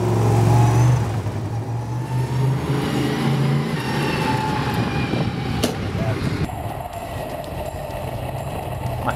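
A sprint car engine roars on a racing track, a loud sustained drone that eases slightly as the car circles, heard up close without pause.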